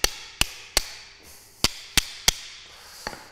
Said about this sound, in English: get your hammer and chisel out